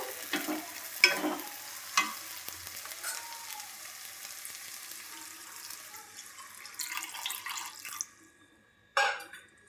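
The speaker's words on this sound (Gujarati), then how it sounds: "હવે આપણે દૂધ નાખી દઈશું" Milk is poured into a pan of roasted green corn halwa in ghee, giving a sizzle and splashing pour, then soft stirring scrapes that fade before a final clatter; no talking.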